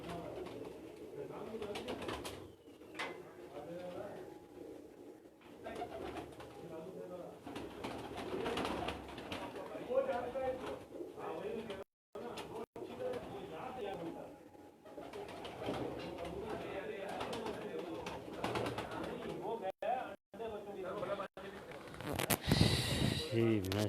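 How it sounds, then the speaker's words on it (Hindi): Pigeons of a single bloodline coo on a rooftop in repeated soft, throaty phrases, while people talk nearby over much of the stretch and a brief louder disturbance comes at the end. "बहुत खूबसूरत कबूतरों का आपको शौक़ करवा रहे हैं"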